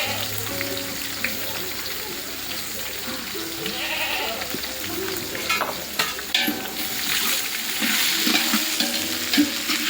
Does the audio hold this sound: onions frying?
yes